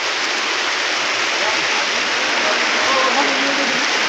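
Heavy rain pours steadily during a walking pilgrimage to Ranuja, a dense continuous hiss of water close by, holding at an even loudness throughout with no break.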